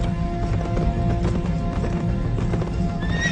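A horse gives a loud whinny over steady clip-clopping hooves, with a continuous dense rumble of movement throughout and no voices.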